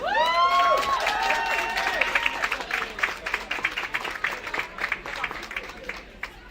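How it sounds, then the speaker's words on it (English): Audience applause at a leadership race results announcement, a burst of clapping that thins into scattered claps, with a few whistles at the start. "Could everyone give a round of applause?"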